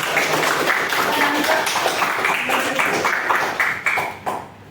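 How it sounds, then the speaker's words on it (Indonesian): Classroom applause from students during a teaching practice lesson, a dense steady patter of many hands clapping for several seconds, fairly loud and close, thinning out toward the end. "Beri tepuk tangan"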